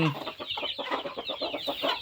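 Young Yersing fighting-breed chicks, about two to four months old, cluck steadily in a rapid run of short, close calls, with no talking over them.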